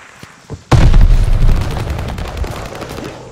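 Loud close gunfire in Call of Duty: Vanguard multiplayer, a sudden heavy burst of rapid automatic shots and booms that rolls on and slowly tapers.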